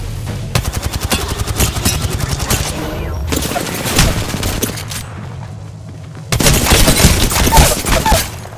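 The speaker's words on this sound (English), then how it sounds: "Taking fire." Gunfire in the Apex Legends video game: loud, close bursts of rapid automatic shots in long rattling strings. There is a short lull before another heavy volley, with game sounds around the shots.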